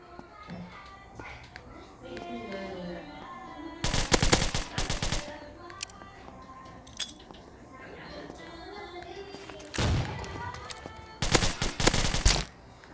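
Bursts of automatic rifle fire from an M4 or AK in an online shooter game duel, coming in three loud, rapid volleys separated by quieter stretches of game sounds and clinks.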